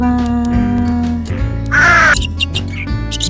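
Harsh crow caws ring out several times over a sung Tamil children's rhyme with a steady musical backing, the calls loud and close, rising above the melody.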